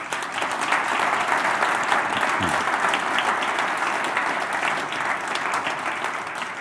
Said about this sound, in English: I'd ask you if you'd please give them a round of applause.